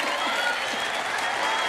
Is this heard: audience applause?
yes